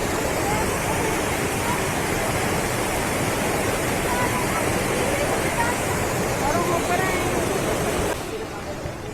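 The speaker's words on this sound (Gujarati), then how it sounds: "કહેવાય છે આ નીર વોટરફોલ." The Neer waterfall near Rishikesh rushes as a dense, loud, steady roar of falling water. Faint voices murmur underneath, and the sound drops a little in the final second.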